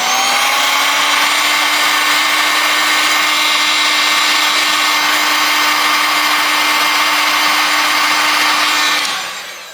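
A heat gun blows hot air on a part inside a Cat S62 Pro phone during teardown, a steady close whooshing whine held for about nine seconds before it cuts off, with no talking.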